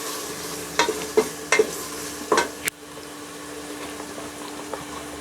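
A few sharp scraping and clinking stirs of garlic frying in a pan over a steady low sizzle, then a quieter simmering hiss continues alone.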